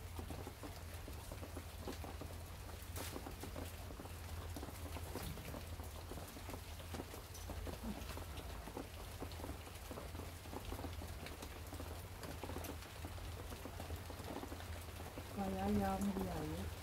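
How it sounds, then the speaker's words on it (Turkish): Steady heavy rain pours down outdoors, a dense continuous patter hitting surfaces for the whole stretch, with a low constant rumble beneath and a brief voice near the end. "Bayağı yağmur yağıyor."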